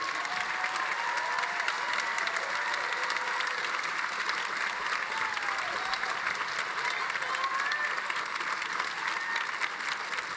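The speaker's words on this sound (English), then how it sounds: "Let's give them a big round of applause." An audience at a university commencement ceremony applauds in a steady, even wash of clapping that lasts the whole ten seconds, heard at a moderate distance in a large space.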